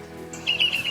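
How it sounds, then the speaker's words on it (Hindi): Birds chirp in the early morning, with a brief bright twitter of quick repeated notes over a soft, steady background. "चिड़ियों की चहचहाहट"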